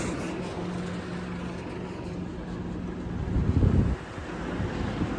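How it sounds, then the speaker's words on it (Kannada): Wind and surf at Marvanthe beach, a steady broadband rush with microphone buffeting that swells briefly before dropping back to a continuous roar. "Beach, ಮಾರ್ವಂತೆ beach."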